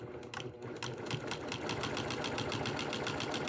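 Sewing machine stitching quilting lines, a fast, steady mechanical rattle of rapid repeated needle strokes that speeds up and holds an even rhythm, close and alone.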